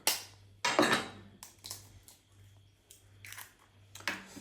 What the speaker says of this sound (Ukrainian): Беремо яйця, розбиваємо їх.